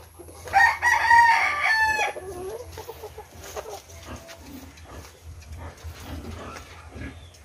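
Hens nearly ready to lay their first eggs cluck and squawk close by, with a sharp burst of calling early and then scattered softer clucks over a low rumble.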